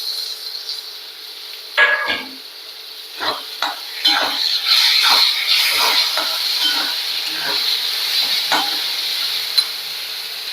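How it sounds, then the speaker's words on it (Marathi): Chopped tomatoes hit hot oil in a pan with onion, sizzling steadily while a utensil scrapes and clinks against the metal in irregular bursts, close and fairly loud. "आता आपण हे चॉप केलेलं टोमॅटो घालून घेऊयात"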